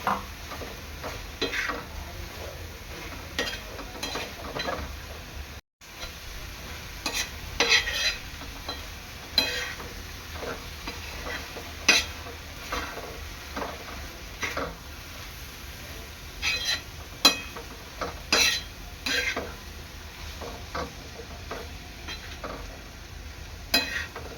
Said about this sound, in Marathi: यामध्ये आता मी आपला राईस ॲड करणार आहे, मिक्स करून घ्यायचं चांगलं।